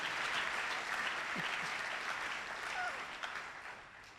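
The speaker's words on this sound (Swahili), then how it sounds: "We clap for Jesus Christ." A church congregation claps in praise to God during a sermon, a faint, far-off, even patter of hands that trails off slowly, with a few brief voices rising over it.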